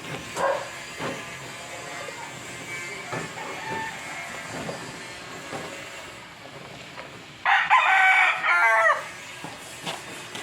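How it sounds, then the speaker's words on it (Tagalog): A rooster gives one crow at a distance, short and fairly loud, over a steady outdoor background hiss with no talk. "May dalawang manok."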